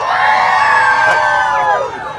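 Children in a Pittsburgh Christmas show crowd cheer, scream and shout all at once, a loud, sustained wall of high-pitched voices that eases off slightly near the end.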